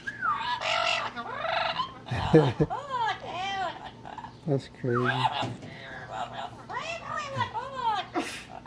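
A pet bird makes chattering, talking-like vocalizations with warbling, rising and falling calls that sound almost like human speech, close and continuous, while people talk briefly nearby.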